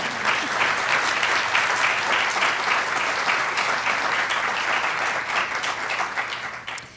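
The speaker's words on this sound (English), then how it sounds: "Feel free to give that a round of applause." An audience at a Pride Month event hosted by Antony Blinken applauds steadily, a dense, sustained wash of clapping that stays full and only thins slightly at the very end.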